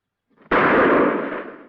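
A volley of rifle gunfire goes off in a Western film on a shouted command: one sudden, loud, booming blast that hits all at once and then rings out in a long, slowly fading roar.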